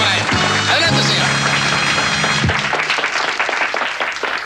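Applause from a studio audience greets a contestant on a 1981 variety show, a dense clapping wash over music with tonal notes early on, fading somewhat toward the end.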